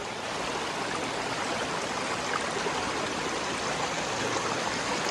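A river flows into a small pool-like basin on a rainy morning, a steady broadband rush of water running evenly and close throughout, with no voices.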